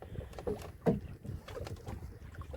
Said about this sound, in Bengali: সুকুমারদা কিন্তু এক হাতেই সমস্ত বসি ফেলবে তার সাথে সাথে নৌকাও বাইবে